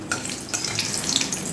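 Three green chillies sizzle and fry in a pan while being stirred, a steady close crackle with brief scraping stirs, no voices.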